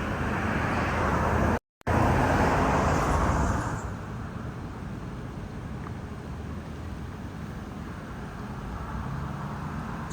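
A BMW 340i with a B58 engine and M3 CSL wheels rolls into a garage bay, its low road-and-engine rumble loud at first, dropping after a few seconds to a steadier, quieter idle-like hum.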